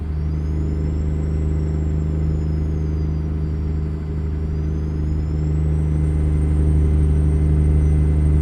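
A Kenworth W900 truck with a 620 hp engine in American Truck Simulator, a steady deep droning rumble with a faint high whine above it, loud and continuous with no talk.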